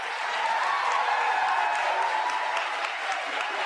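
Scattered, thin applause from an audience at a political address by Maine governor Janet Mills, a steady patter of clapping with light crowd murmur throughout.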